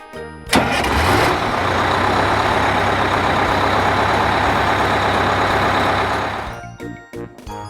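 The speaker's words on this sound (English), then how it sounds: "School bus." A yellow school bus engine cranks and starts, then runs with a loud, steady rumble for several seconds before cutting off abruptly.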